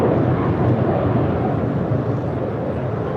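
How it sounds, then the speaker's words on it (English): A JetBlue Airbus A321 departs LAX, its engines a loud, steady, broad roar heard from a parking garage, heavy in the low end and unbroken by talk. "That is Mike India November Tango departing to New York. It's JetBlue flight 2124. It's an Airbus A321."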